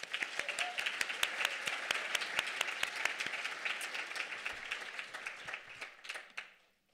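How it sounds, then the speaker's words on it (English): Audience applause for sponsors at a talk, a steady wash of clapping from a seated crowd, moderately loud and fading out near the end. "Just join me in a quick round of applause for our sponsors."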